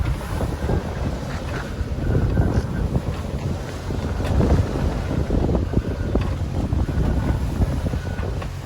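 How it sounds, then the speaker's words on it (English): A sailboat slamming through short, steep Red Sea waves on a passage from Sudan to Egypt, with steady loud wind roar and rushing water, broken by repeated thumps as the hull bounces, continuous throughout. "we bounce around in these short steep waves. It's not very pleasant at all."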